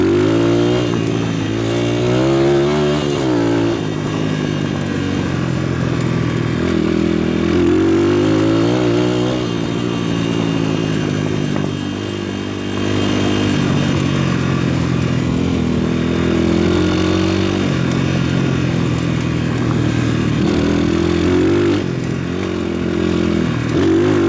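A 140cc PitPro pit bike rides a gravel trail past wild bamboo, its small engine buzzing loudly and steadily throughout with rising and falling revs as the throttle is worked, plus light clatter from the bike.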